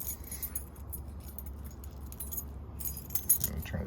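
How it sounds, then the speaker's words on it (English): A bunch of keys jangles close by in an old Ford parked for 25 years, bright metallic clinks in short bursts with a quiet pause between them and no talking. "I'm going to check my keys to see if I got a key for it."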